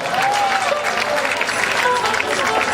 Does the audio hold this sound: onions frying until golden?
no